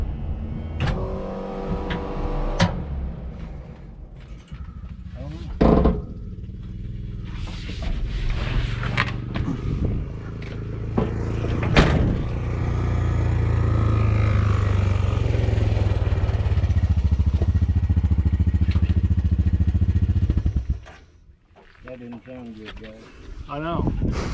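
A damaged Chevy S10 engine is revved into a loud, sustained rough roar lasting several seconds, preceded by clatter and knocks, with people talking before and after.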